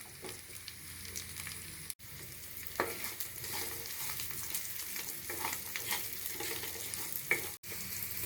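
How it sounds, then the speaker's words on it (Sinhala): Cinnamon bark, green chillies and chopped red onion fry in hot oil for an okra curry, a loud continuous sizzle broken by occasional scraping stirs close by. "මේ දේවල් ටික තෙලේ තෙම්පරාදු වෙනකොට"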